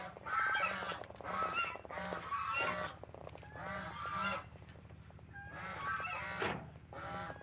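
A goose honking repeatedly in loud, rhythmic bursts close by while being settled onto a clutch of eggs to brood, with farmyard background noise under the calls.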